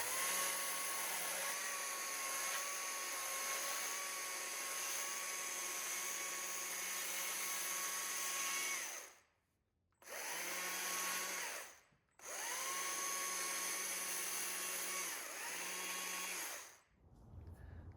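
A chainsaw carves wood, rounding off the back of an owl's head. Its engine holds a loud, high, steady whine that drops out briefly twice before starting up again.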